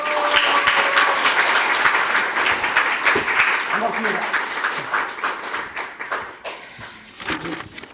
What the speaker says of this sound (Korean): 여러분의 박수로 모셔보겠습니다